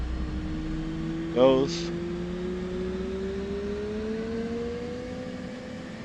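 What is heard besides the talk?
aircraft engine spooling up to about 40 RPMs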